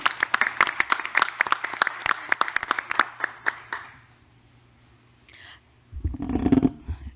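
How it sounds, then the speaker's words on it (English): Scattered applause from a small audience at a school district board meeting, a few seconds of close, uneven claps that taper off into quiet, followed by rustling and a brief voice. "we certainly would like to give her a round of applause"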